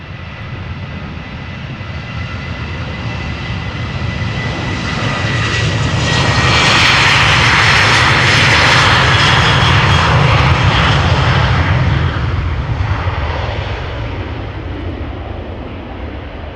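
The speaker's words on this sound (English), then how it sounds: "We have more planes coming this way." Airliners departing from the Polderbaan runway at Amsterdam Schiphol Airport, with a loud, continuous jet engine roar that swells to a peak midway and then slowly recedes, with no voices.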